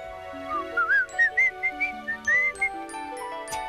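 A person whistles a short, bright, wavering melody of quick rising and falling notes over soft background music, close and clear with no talking.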